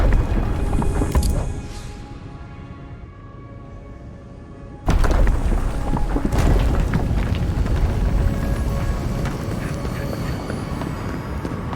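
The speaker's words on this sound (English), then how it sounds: "That was a damn big explosion" A big explosion in the fantasy game Avowed sets off a deep rumbling boom, then a sudden loud blast whose broad roar lingers and slowly fades, with a voice speaking underneath.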